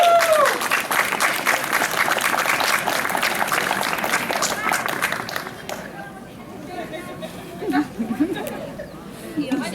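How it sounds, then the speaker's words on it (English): An audience applauds at a geocaching event prize ceremony, a loud continuous burst of clapping with crowd chatter, fading after about six seconds into murmuring voices and movement. "Applause!"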